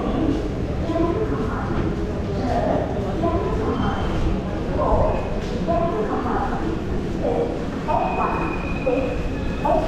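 The Chennai Mail Express pulls out of a station, a continuous loud rumble of wheels and carriages with rhythmic clatter, while voices murmur over the top.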